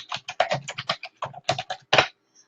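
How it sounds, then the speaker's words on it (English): A web address being typed into a chat on a keyboard: a close, distinct run of individual key clicks in an uneven rhythm, ending with a short pause and one faint final tap. "I'll type it in the chat"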